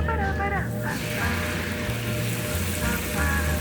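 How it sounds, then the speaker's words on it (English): Sauce sizzles in a pan with a constant hiss and crackle while a person talks over it near the start and end. "you can hear the sizzle?"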